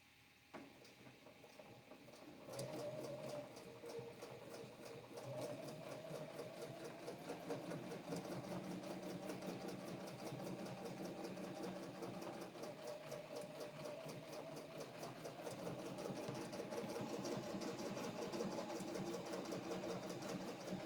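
A long-arm quilting machine stitches an edge-to-edge row using coil and ribbon candy templates. After a quiet start, the motor's rapid, even whirr of needle strokes runs steadily to the end.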